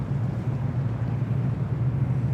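Jetstream 32 turboprop engine at Sydney Airport, a steady low droning hum heard from a distance, constant throughout with wind-like noise and no talking.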